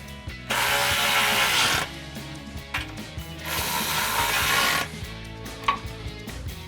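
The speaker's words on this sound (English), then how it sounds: "using our 9/16 socket, we can go ahead and tighten up the bolts that attach the mounting bracket to the steps" Ratchet with a 9/16 socket tightening bolts on a truck side-step mounting bracket, two sustained bursts of rapid clicking close up, each followed by a clank.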